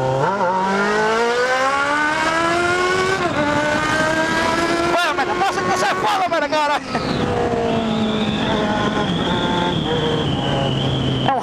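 A Honda Hornet motorcycle revs hard and accelerates through rising gears in a street race, a loud close engine whine climbing in pitch, dropping at shifts, then holding steady.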